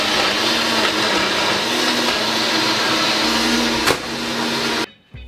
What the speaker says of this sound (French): Et on fait tourner le mixeur.